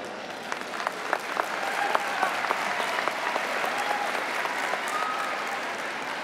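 Graduation audience at the Phoenix High School 2023 ceremony gives a sustained round of applause for the Kalamazoo Promise donors, a dense, steady wash of clapping with scattered sharper claps throughout.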